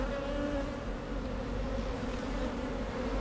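Bees buzz around active beehives at a château apiary, a dense, steady drone of many insects that holds evenly throughout, close and fairly loud with no talking.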